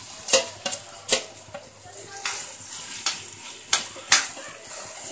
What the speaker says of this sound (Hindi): अब इसमें हम आंवले डाल देंगे चाशनी के अंदर।